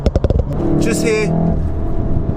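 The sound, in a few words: car exhaust crackles when lifting off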